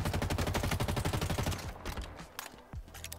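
Rapid automatic gunfire from a Halo Forge map match, a loud, steady burst of evenly spaced shots for about one and a half seconds, then scattered single shots and softer game sounds.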